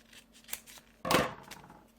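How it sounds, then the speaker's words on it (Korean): Scissors cut through paper for a paper robot model in one sharp snip midway, with a few faint rustles and handling sounds before it in an otherwise quiet room. "가운데를 잘라주세요."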